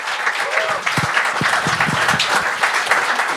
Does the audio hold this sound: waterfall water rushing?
no